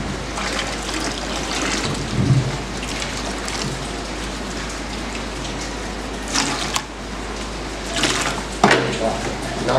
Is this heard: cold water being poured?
yes